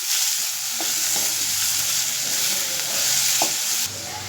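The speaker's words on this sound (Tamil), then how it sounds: "இப்போ நல்லா அந்த வெங்காயம் வேகிற வரைக்கும் நம்ம மிக்ஸ் பண்ணிக்கலாம்." Onions fry in a pan with a steady bright sizzle, and a few short spoon scrapes are heard as they are stirred, close and fairly loud.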